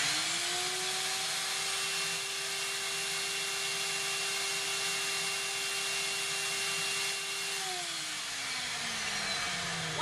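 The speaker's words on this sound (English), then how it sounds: "connect it to your drain line and turn your vacuum on for 3 minutes consecutively" A wet vacuum hooked to an AC condensate drain line runs with a steady, loud whining drone and airy rush, its pitch dropping slightly near the end as the motor load changes.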